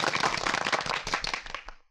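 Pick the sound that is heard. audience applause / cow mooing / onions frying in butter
audience applause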